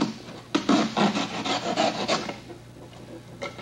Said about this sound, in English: we take this hacksaw blade and we saw it off, leaving an eighth of an inch of foam or so on it